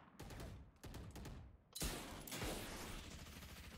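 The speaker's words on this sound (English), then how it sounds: "Oh, there's so much gunfire." Rapid bursts of video game gunfire crackle in dense volleys, loud and continuous, with heavy shots layered over each other.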